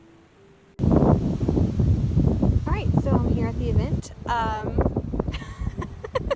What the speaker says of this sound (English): It is windy and it is cold and it's starting to rain